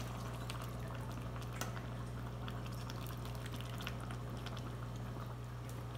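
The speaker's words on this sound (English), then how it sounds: "2 cans of tomato sauce going in." Canned tomato sauce pours into a pot of beef and bacon chili as a steady, dense liquid pour over a constant low hum, filling the whole short stretch at moderate level.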